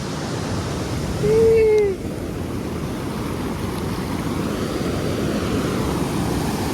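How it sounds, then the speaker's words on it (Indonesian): A small waterfall on a beach gives a loud, steady, broadband rush of water throughout, with a brief whistle-like tone early on. "Ada curug kecil-kecilan, guys."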